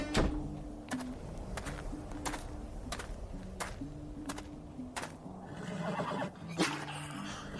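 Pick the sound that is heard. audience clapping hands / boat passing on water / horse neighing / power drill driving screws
horse neighing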